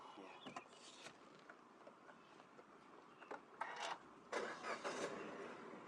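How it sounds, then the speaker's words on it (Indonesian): A vehicle's engine is started during a daily pre-use inspection. It is quiet at first, then a few faint mechanical clicks lead into short, louder bursts as the motor cranks and catches near the end. "mesin sudah menyala"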